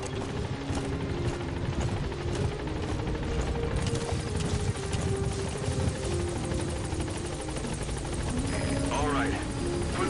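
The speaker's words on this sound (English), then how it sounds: "The chopper's waiting." A helicopter waits at a landing zone in a Metal Gear Solid video game, its rotor drone steady and loud throughout with a mechanical whir, while voices talk over it.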